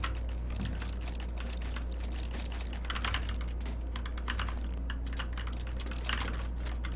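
Rapid computer keyboard typing clatters steadily throughout, close and fairly loud, with a constant low hum beneath during a gaming stream; no one speaks.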